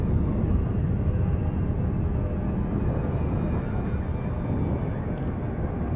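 A spaceship makes a flyby in the Elite Dangerous video game, heard as a steady, loud, broad engine rumble and whoosh that holds evenly throughout with no talk.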